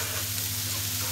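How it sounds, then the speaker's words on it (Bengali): Pre-fried prawns are stirred with spices in a hot pan, giving a steady, close, hissing sizzle with no talk. "আগে থেকে যে চিংড়ি মাছটা ভেজে রেখেছিলাম ওই চিংড়ি মাছটা দিয়ে দিব, দিয়ে হচ্ছে সুন্দর করে এর সঙ্গে একটু মিশিয়ে নিব।"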